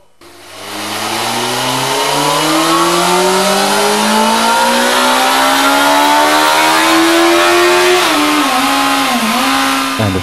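A powerful motorcycle engine climbs steadily in pitch as it accelerates, then snaps through a few quick revs and gear changes near the end, loud and close with no talk.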